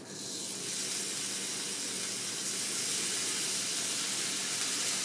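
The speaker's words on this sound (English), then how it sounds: "I'm not going to make you sit here and watch the whole bacon cook" Homemade slab bacon, cut more like side pork, sizzling steadily in a hot pan, a continuous bright hiss and crackle that holds even and close throughout with no talking.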